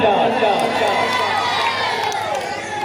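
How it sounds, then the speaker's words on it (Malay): An audience at an evening Quran recitation competition in Gampong Teupin Gajah claps and cheers in a steady, crowded wash of noise, with voices shouting and talking over it throughout. "Mana tepuk-tangannya para penonton?"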